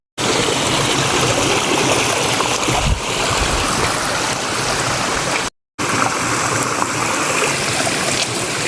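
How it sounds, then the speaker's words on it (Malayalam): Stream water flowing near a bike-ride stop at Nagapara in Kerala, a loud, steady rushing wash heard close by without a break apart from one brief dropout. "ഈ ഒഴുകി വരുന്ന വെള്ളത്തിൻ്റെ സൗണ്ട് കേട്ടോ"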